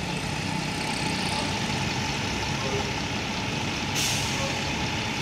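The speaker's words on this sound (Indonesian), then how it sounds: "Bunyi angin remnya keren ya." A Hino RK8 bus idles with a steady engine rumble, then near the end lets out a short, sharp burst of air brake hiss close by.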